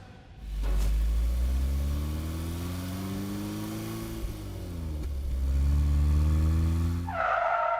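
A car is pulled out and driven off, its engine rumbling close and loud, climbing in pitch as it accelerates, dipping briefly, then revving up again, with no voices.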